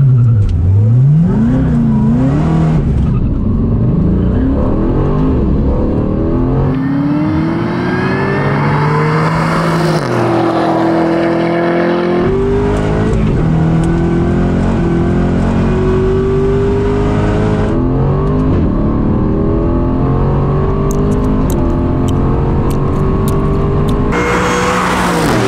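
Supercharged Corvette Z06 and Aston Martin Vantage drag race side by side, engines roaring loud and close, repeatedly revving up through rising gear pulls and shifts, with no talk over the sustained engine noise.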